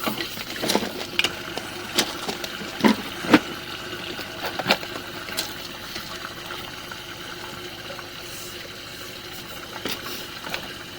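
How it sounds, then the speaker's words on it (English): Water flows steadily through a sewer main line into the city line, a low continuous gush with scattered clicks and knocks from the plumbing equipment. "Water seems to be flowing beautifully into the city line."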